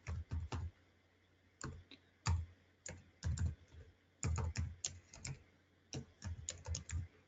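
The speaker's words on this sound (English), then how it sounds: "So let me type that in here." Someone types on a computer keyboard with quick, soft clicking in short bursts separated by brief pauses, close and quiet in an otherwise still room.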